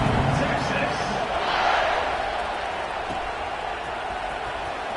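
A stadium crowd in a College Football 26 video game roars steadily through a kickoff, a dense continuous wall of cheering that swells slightly and stays loud throughout.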